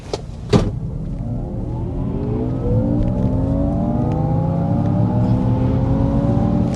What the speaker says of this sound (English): we're going to try another acceleration in sport mode now